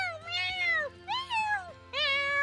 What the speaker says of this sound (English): the small lab erupts with hungry meows